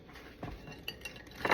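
Metal toaster tongs pick up slices of bread at a kitchen counter while breakfast is made, giving light clinks and taps with a brisker metallic clatter at the end.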